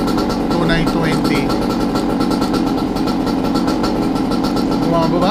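A Goped GTR scooter's small engine idles near 3000 RPM with a steady, continuous buzzing drone at close range, loud and even throughout, with faint voice-like sounds mixed in.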